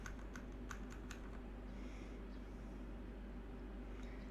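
Computer keyboard typing as an npm build command is entered, a quick run of sharp keystroke clicks near the start, then a steady low hum with an occasional click.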